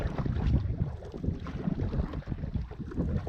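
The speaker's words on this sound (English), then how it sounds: "There's a bit of wind, but nothing to complain about." Steady wind on a lake in Algonquin during a canoe trip, a soft, low buffeting rush with gusty swells that stays fairly quiet throughout, with no voices.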